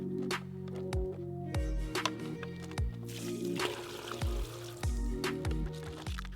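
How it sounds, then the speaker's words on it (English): Water flushes from the clean tank through the hose and nozzle into the dirty tank of a Vax SpotWash during its self-cleaning run, a steady pouring, gurgling flow with repeated sputtering drops, close and continuous throughout. "turn it on whilst holding the nozzle in place, and it just flushes through everything from your clean tank into your dirty tank"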